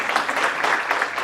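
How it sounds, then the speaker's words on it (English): Brief burst of applause at a college honor society induction ceremony, a dense, even patter of many hands clapping at moderate distance, lasting only about a second. "Let's give them a round of applause."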